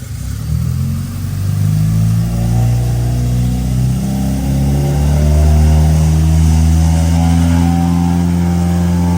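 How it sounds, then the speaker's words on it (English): A Honda K20 engine in a JDM Acura Integra, a loud, close, steady engine drone that rises and swells in pitch as it revs. "That sounds like a Honda. Loud. It's loud, yeah."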